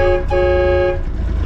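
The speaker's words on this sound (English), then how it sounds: "It's not the most blastiest train horn, but it's free one." A train horn installed on a cabover truck blasts loud and close, a brief high-pitched tonal chord lasting about a second over low engine rumble, then cutting off.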